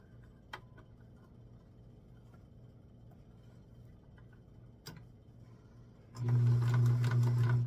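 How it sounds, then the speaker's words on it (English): A sewing machine stitches along the edges of the back of a skirt, starting up near the end as a loud, steady whirring run after quiet moments with faint ticks and clicks. "Now we are going to sew along the edges of the back of the skirt."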